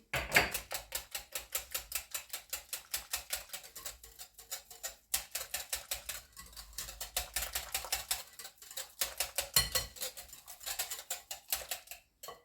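Batter being whisked by hand with warm kefir for a green onion pie, a fast steady clatter of the whisk against the bowl running continuously throughout, close and fairly loud with no talking.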